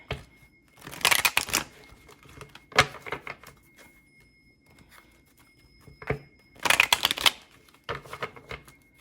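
Tarot cards are shuffled in quick riffling bursts that come and go over several seconds, with quieter handling in between and no talking.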